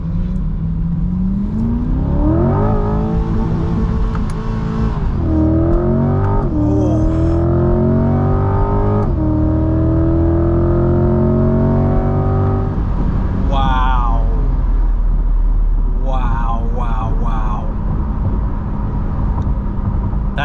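A 2020 Corvette C8 Z51 engine pulls hard while driving, its rising revs climbing through gears with shifts and a steady loud interior drone, close and continuous, with brief chirps near the end.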